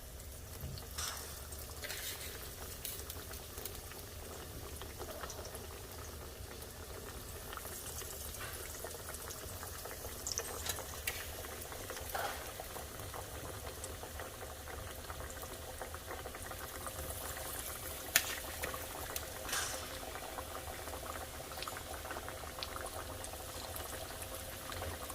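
Thin breaded chicken cutlets fry in a pan, a steady, even sizzle with small crackles and pops running the whole time, close by, with no voices.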